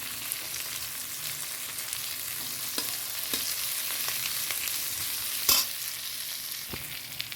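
Onion, uncrushed whole garlic cloves and slit green chillies fry in a pan with a steady close sizzle. Scattered clicks of stirring run through it, and a sharper clatter comes near the end.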